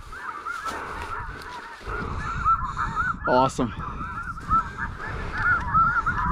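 Many snow geese honk continuously in a noisy, overlapping chorus from a distance during a spring goose hunt in Alberta, while someone briefly speaks nearby.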